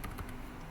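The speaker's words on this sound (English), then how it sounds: "So as soon as I type HTML5," Quick keystrokes on a computer keyboard, a short burst of soft clicking taps close by and fairly quiet, with no voice over it.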